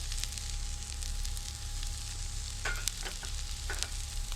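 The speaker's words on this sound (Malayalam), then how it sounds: "പച്ചമുളക് കട്ട് ചെയ്തത് ഇവ ചേർത്തിട്ടൊന്ന് ചെറുതായിട്ടൊന്ന് വഴറ്റിയെടുക്കാം" Chopped onion with garlic, ginger and green chili sautéing in a pan for a restaurant-style vegetable and chicken korma, a steady close sizzle with occasional light stirring scrapes and no voices.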